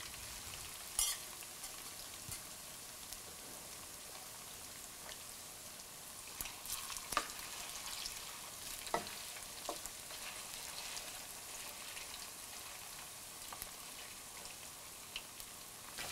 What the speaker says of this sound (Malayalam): മീൻ കഷ്ണങ്ങൾ കുറേ മുരിഞ്ഞു പോകണ്ട, എന്നാൽ നന്നായിട്ട് ഫ്രൈ ആകുകയും വേണം.